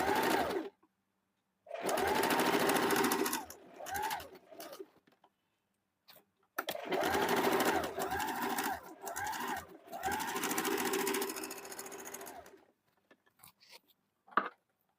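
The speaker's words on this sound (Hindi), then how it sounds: "फिर इसके ऊपर इस प्रकार से रख के 1/2 इंच में इस प्रकार से सिलाई चला देंगे" A sewing machine stitches blouse pieces with a half-inch seam in three fast whirring bursts separated by pauses, ending with a few light clicks and a short mechanical clack.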